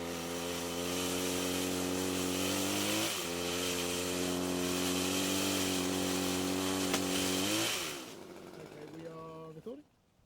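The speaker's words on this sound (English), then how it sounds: "it makes light work of cutting quite thick branches, so ideal for trimming in trees" A Cobra MT270K petrol pole pruner chainsaw cutting thick tree branches outdoors, a loud steady two-stroke whine with pitch dips as the chain bites, then the engine winds down to idle.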